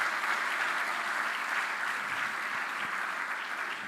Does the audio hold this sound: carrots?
no